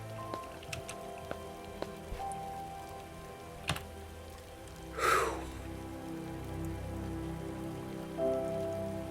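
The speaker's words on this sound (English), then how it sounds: "Ah, it's raining." Rain in the Starbound video game falls steadily on a surface as a soft, continuous patter, with faint ticks and a brief whooshing swell partway through, quiet and unbroken by any voice.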